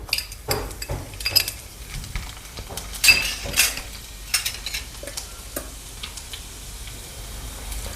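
Garlic sizzling and being stirred in a hot pan for Kathiyawadi-style dal fry, with close utensil scrapes and light clinks over a steady frying hiss.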